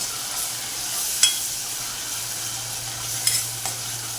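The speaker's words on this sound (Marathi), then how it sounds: "हे कच्चंच वाटण बनवलेलं आहे आपण, ते आपण तेलामध्ये परतून घेऊ छान" A raw ground paste of coconut, garlic, ginger and green chilli sautéed in oil, giving a faint steady sizzle with a few light spatula scrapes, and no one talking.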